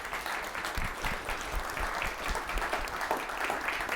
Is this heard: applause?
yes